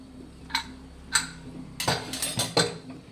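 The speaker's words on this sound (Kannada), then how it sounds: "ಕುಕ್ಕರ್ ಕೂಗಿ ಆರಿ ತಣ್ಣಗಾಗಿದೆ. ಲಿಡ್ ಓಪನ್ ಮಾಡೋಣ." A few separate metallic clicks and clanks, then a rapid cluster of clattering metal knocks as a cooled pressure cooker's lid is worked open nearby.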